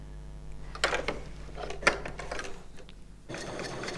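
Bernina L890 sewing machine stitching a coverstitch, a close rapid mechanical whirr in two bursts with a short pause between them and no speech.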